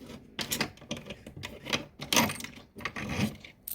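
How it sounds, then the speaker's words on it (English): Screws being backed out of the chassis of a Mesa Boogie Fillmore 25 Reverb guitar amplifier with a screwdriver, a close series of uneven grinding, rasping twists broken by short pauses, no voices. "So we're gonna get all these screws out of here."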